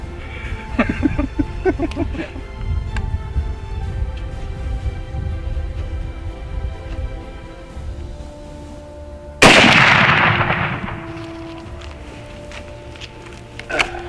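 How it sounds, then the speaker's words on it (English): A single loud rifle shot during an African safari hunt cracks out near the end after a stretch of outdoor rustling and movement, its report decaying quickly, with people talking before and after. "Shot it like it's a BB gun."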